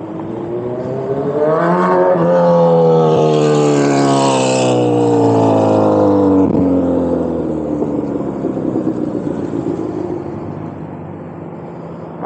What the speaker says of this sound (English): He's got that loud motorcycle motor.